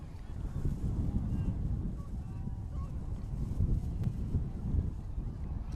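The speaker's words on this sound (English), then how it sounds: "The wind is gusting here." Wind gusts steadily across the microphone at an outdoor high school football game, a constant low rumble with slight swells and no clear voices.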